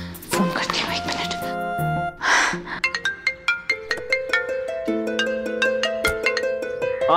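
A phone ringtone plays a repeating electronic melody of bright, evenly spaced notes during an outgoing call, following a brief stretch of speech and a rustling sound at the start.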